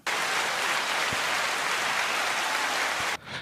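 A circus audience claps in a dense, steady wash of applause, loud and continuous for about three seconds before cutting off abruptly.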